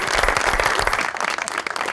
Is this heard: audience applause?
yes